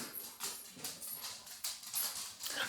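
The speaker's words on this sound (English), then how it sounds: "Dogs wanting to run up the stairs when you're filming." Dogs scrambling up a staircase indoors, their paws making a quick, uneven patter of close, soft thumps and scrapes that keep going through the whole moment.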